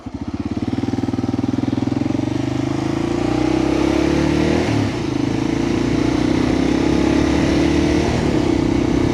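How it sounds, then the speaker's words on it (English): Kawasaki KLR dual-sport motorcycle on the road, its single-cylinder engine thumping loud and steady from up close, pulse rate rising as it accelerates, with some wind rush. "I enjoy riding this KLR so damn much"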